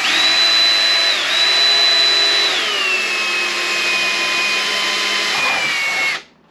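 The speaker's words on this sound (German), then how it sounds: "Jetzt bohre ich das zweite." A power drill bores a second hole through plastic while fitting GlowShift auxiliary gauges, its steady loud whine holding pitch, dipping slightly as load changes, then cutting off abruptly at the end; no talking.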